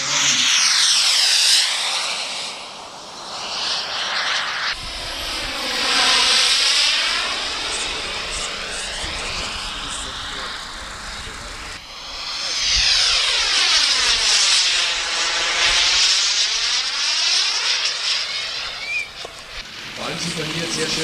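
A model airplane flies low with its landing flaps set, its loud engine whine sweeping up and down in pitch as it makes close passes, continuous and near.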